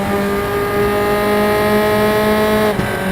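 A Tatuus F4 single-seater race car in RaceRoom Racing Experience at Moscow Raceway, its engine holding a loud, steady high-revving whine with a brief dip near the end as it shifts.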